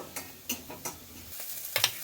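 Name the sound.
mustard seeds spluttering in hot oil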